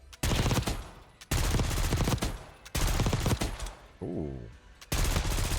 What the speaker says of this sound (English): And of course, the LMG here,